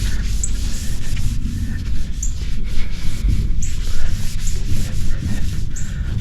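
A rag rubs steadily over the 2K gloss clear coat of a flat black car, wiping off yellow overspray in continuous close strokes with brief pauses between passes.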